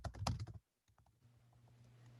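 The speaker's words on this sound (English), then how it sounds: "just start typing in anything that has to do with real estate" Typing on a computer keyboard, a quick burst of close, loud clustered keystrokes followed by a pause and then softer, sparse taps over a low steady hum.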